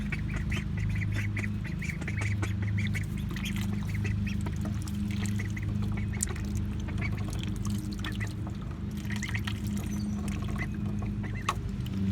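Ducklings in a small pond splash and paddle close by, giving soft quacks and peeps among continuous watery sloshing, with no voices.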